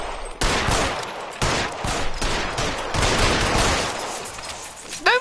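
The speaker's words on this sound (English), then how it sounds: "Golly, he's shooting him." Gunfire in the video game L.A. Noire: loud, dense bursts of shots crackle in rapid succession for several seconds, close and harsh, with a brief gap before a final burst.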